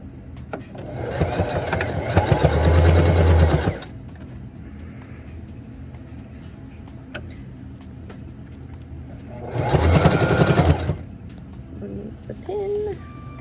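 A sewing machine stitches a cloth napkin seam in two steady whirring runs, each a few seconds long and separated by a quieter pause, close by, with a person talking softly between them.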